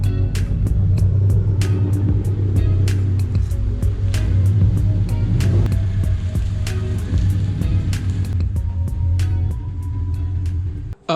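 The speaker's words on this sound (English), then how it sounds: "Let's go ahead now and get the 86 pulled back into the garage" A Toyota 86 is driven into a garage with a steady low engine rumble throughout and repeated sharp ticking clicks, until the engine cuts off abruptly at the end.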